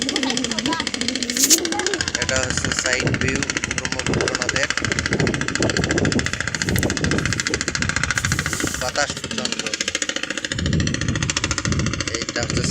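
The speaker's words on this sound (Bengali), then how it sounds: "নদীর থেকে বালু তোলা ট্রলার যাচ্ছে, বিকট শব্দ।" Sand-dredging trawler boat on the Brahmaputra river, its engine droning loudly and steadily throughout with a knocking, chugging pulse, while someone talks over it.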